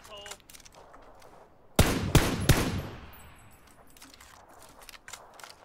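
A teammate fires on a player in the battle royale game PUBG, giving a few loud, sharp gunshots in quick succession that then fade into a quieter background of soft movement sounds.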